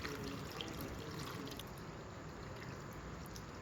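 Water poured onto a kilo of tamarind in an open bowl for soaking, a soft continuous pouring and trickling that stays fairly quiet and close, with no talking.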